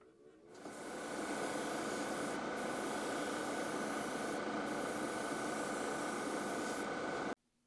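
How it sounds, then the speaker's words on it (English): Airbrush spraying rust-colored paint onto small steel I-beams for a model railroad bridge, a steady close hiss that starts after a brief pause, runs continuously for several seconds, then cuts off abruptly. "I'm just going to hit these up with some rust-colored paint from the airbrush"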